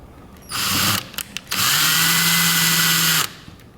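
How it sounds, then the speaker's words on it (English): A power drill starts a screw for kayak bungee deck rigging in two bursts, a short one then a longer steady run, close and loud, with a few clicks between. "We're going to start the screw by using our drill, but we're not going to fully tighten it."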